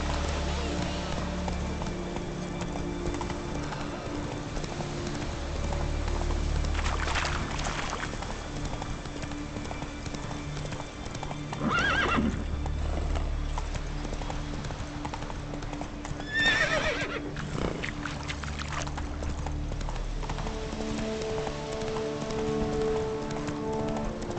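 A horse in The Witcher 3 gallops in bursts of rhythmic hoofbeats with a few loud whinnies between them, over a soft backdrop of rain.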